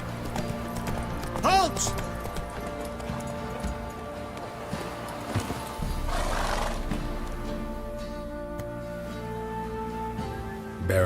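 Roach the horse galloping in The Witcher 3: Wild Hunt, with a steady clip-clop of hooves and a brief whinny, heard under game character voices and a shouted command.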